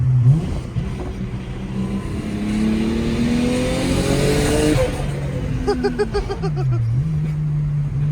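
A car engine revs and accelerates in second gear, its pitch climbing steadily under load, then dropping briefly and holding again near the end, loud and close.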